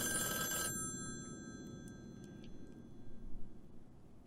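A telephone bell rings once in a horror film trailer, a bright burst that cuts off abruptly and leaves a faint, rumbling low ambience with a few scattered ticks behind it.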